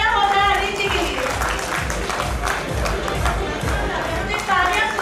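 Dense audience applause with some cheering fills an awards ceremony hall for taxi captains in Jaipur, steady and loud throughout, with a crowd murmur beneath.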